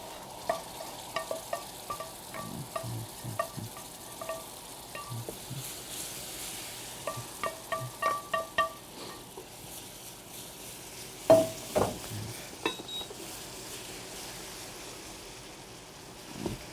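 Liquid poured into a hot pan for lobster ravioli, hissing and sizzling steadily, with scattered stirring and clinking knocks, strongest around the middle and close by, with no talking.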